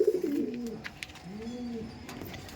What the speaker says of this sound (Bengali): দেখুন এটা মাদি পায়রা আছে